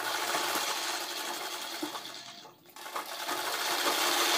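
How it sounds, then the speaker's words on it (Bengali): A sewing machine stitches a gathered puff sleeve on cloth, a fast, even mechanical whirr heard close but soft, briefly pausing midway before running on. "তারপরে এই সাইডটাও আমি সেলাই করে দিয়ে দিচ্ছি।"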